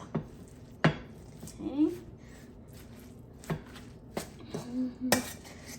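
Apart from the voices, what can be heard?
mixing pork and vegetable egg roll filling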